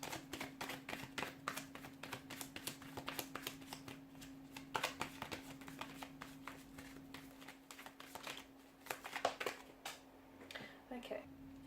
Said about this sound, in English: let's go ahead and give the cards a shuffle